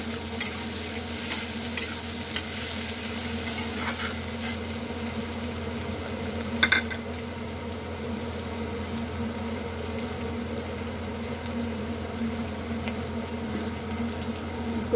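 Aloo poha ingredients roast in a hot pan until browned, giving a steady, even sizzle with faint stirring scrapes and a few soft clinks, heard alone with no talking.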